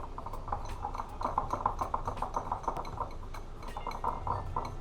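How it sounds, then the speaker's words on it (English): A whisk clinks steadily against a bowl while cream cheese is beaten with pineapple juice, a quick repetitive tapping rhythm with small metallic ticks, close and moderately loud, no voices. "So I'm whisking"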